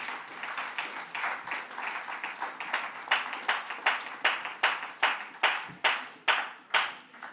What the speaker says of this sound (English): I believe we can give a Jamaican round of applause to our keynote speaker.